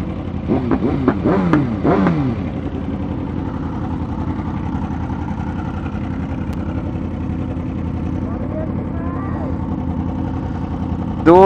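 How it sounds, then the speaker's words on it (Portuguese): A motorcycle engine idles and revs out on the street, a sustained throaty rumble under brief talking at the start, steady and fairly close throughout. "Doido que só, acelerando pra caralho lá na rua"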